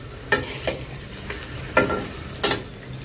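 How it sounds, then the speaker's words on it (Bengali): Eggs lightly fry in a pan for egg korma, a low sizzle under three or four distinct scraping stirs spaced about a second apart; no one speaks. "হালকা ভাজবো, বেশি না।"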